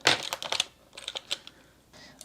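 Keys clacking on a computer keyboard in quick irregular bursts, close and fairly loud at first, then sparser taps with short pauses, no voices.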